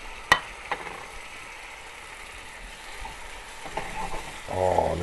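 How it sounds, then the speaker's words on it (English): Strips of beef rib steak fry in a pan over medium heat, giving a faint, steady sizzle with a few sharp clicks and stirring clatter near the end. "you hear that sizzling?"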